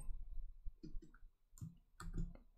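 A computer mouse clicks a few times at a desk, soft separate taps in small pairs against quiet room noise.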